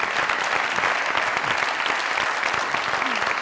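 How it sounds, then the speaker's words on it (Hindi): A studio audience at a comedy talk show bursts into loud, dense, continuous applause that fills the room steadily from start to finish, with no voices over it. "एक दफा फिर जोरदार तालियां"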